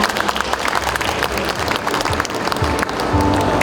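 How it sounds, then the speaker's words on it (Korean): Sustained audience applause at a 2019 Seoul campus town festival, a dense steady wash of many hands clapping with crowd murmur, filling the whole stretch and swelling slightly near the end. "다시 한번 큰 박수 부탁드리겠습니다"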